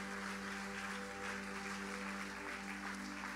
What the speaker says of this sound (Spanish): Le damos un aplauso a estas personas que tomaron esta decisión.